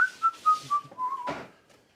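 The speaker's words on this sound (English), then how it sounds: "Give me a little whistle while we work." A person whistles a short tune of several bright, wavering notes while mopping, followed by a brief scuffing noise, close and clear with no talking.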